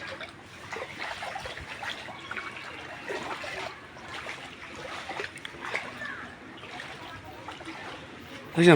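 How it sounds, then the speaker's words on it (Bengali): Rainwater trickling and splashing into a bucket, a soft, uneven dribble with brief splatters, fairly quiet, with voices in the background. "বালজানের মধ্যে বৃষ্টির পানি ভরে রাখছে"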